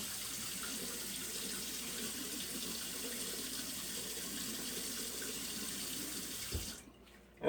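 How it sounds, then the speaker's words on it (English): Tap water runs steadily into a kitchen sink while pumpkin seeds are rinsed, a continuous close splashing rush that cuts off with a thump near the end. "So I'm just basically going to rinse these off just a little bit."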